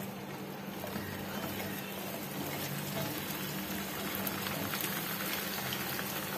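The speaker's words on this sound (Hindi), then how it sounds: "जैसे ही ऑयल गर्म हो जाएगा, अब हम इसमें कटी हुई भिंडियां ऐड करेंगे" Chopped okra fries in hot oil in a pan, giving a steady, even sizzle and crackle that holds at the same level throughout with no talk.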